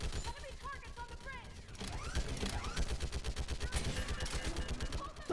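A mounted gun firing in the video game Mass Effect 3, steady rapid thudding shots running throughout under battle noise and voices speaking.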